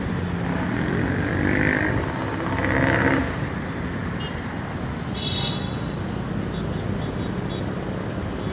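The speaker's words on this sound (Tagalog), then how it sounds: "Traffic." Continuous road traffic noise, a broad rushing roar of passing vehicles with a couple of louder swells and faint distant honks.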